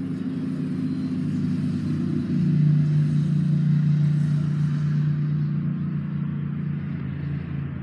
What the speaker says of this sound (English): Quite a lot of traffic right by the highway.